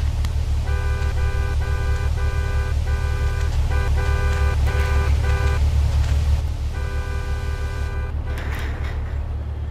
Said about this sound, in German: Wer hupt denn da so im Hintergrund,